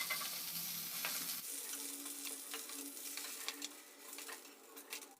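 Pieces of pointed gourd fry in oil with a bright, continuous sizzle and crackle, heard up close and fairly quiet, with occasional scraping stirs and no talking.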